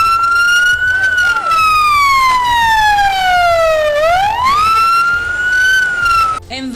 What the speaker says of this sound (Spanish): Empiezan a llegar las ambulancias